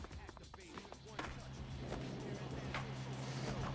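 Car in the skateboarding video game Tony Hawk's Underground, a rumbling engine-like drone building after the first second and holding steady, with voices and game noise over the start.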